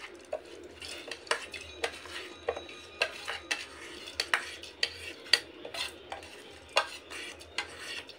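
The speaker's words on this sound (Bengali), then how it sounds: "তো ধুয়ে রাখা ডালটা এবার ওই জলের মধ্যে সেদ্ধ হওয়ার জন্য দিয়ে দেব" Washed dal tipped into hot water in a pot and stirred for a mixed vegetable dal, heard as a series of sharp metal clinks and scrapes of a spoon against the pot, close and distinct.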